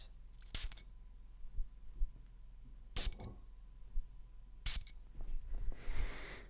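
Three short, sharp hissing bursts from a cologne spray bottle, evenly spaced a couple of seconds apart, close and crisp over a low background hum, with a softer rushing noise trailing at the end.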